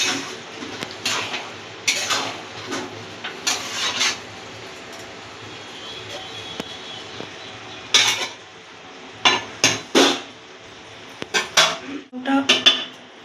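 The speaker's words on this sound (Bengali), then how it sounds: "আমরা এবার এটাকে নাড়াচাড়া দিয়ে একদম মিডিয়াম আজে রাখি যাতে এটা লেগে না যায়" A spatula stirs boiled pulao rice in a pot over medium heat, scraping the bottom in repeated bursts that grow sharper and more frequent toward the end, with no talking.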